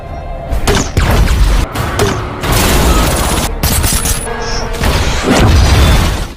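A film gunfight during a police raid: dense, loud bursts of gunfire, booms, thuds and crashes overlapping in rapid succession, a chaotic action soundtrack with no clear speech.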